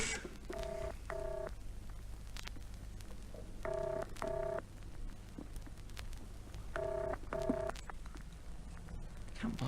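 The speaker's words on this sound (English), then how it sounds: "Come on, answer your phone." In a theatre drama scene, a telephone call goes unanswered: three pairs of ringback double rings sound faintly and evenly through the earpiece over a low steady hum.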